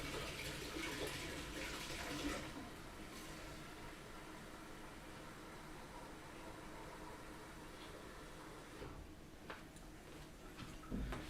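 Hot, highly concentrated descaler is poured from a boiler for a Jura A7 coffee machine repair, a faint, steady trickle of liquid running for several seconds with light ticking clatter and no voices.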